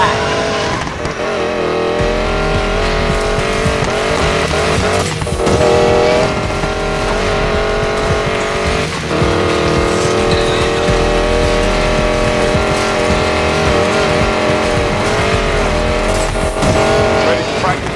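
A hypercar races in the video game Need for Speed Payback, its loud engine roar and squealing tires running steadily under continuous music, with voices heard at times.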